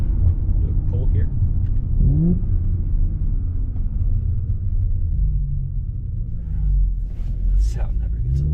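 A 2023 Audi S4 B9.5 pulling hard under acceleration, its exhaust a deep continuous rumble from inside the car with rising engine tone and a brief shift, loud and steady throughout.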